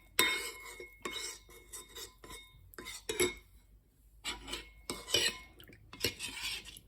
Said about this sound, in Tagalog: Haluin ko lang hanggang sa matunaw.